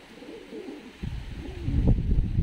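Fighting pigeons in a loft in Tbilisi, Georgia, cooing in soft low rolling bursts that grow louder and nearer toward the end, with no talking.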